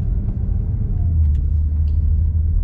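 A car with an automatic gearbox drones at a low, steady rumble from inside the cabin, its engine note holding fairly even with slight rises and falls and no clear rev surge.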